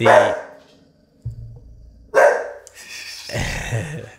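A dog nearby gives two loud barks a couple of seconds apart, followed by a lower, rougher rumbling noise, indoors during a podcast recording.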